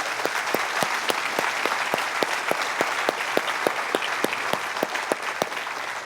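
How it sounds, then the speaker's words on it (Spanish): Steady applause from a church congregation, dense clapping throughout with a few sharper individual claps standing out at a regular beat. "le podemos dar un aplauso al Rey de Gloria"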